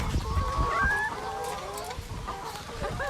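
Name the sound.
chickens clucking on a poultry farm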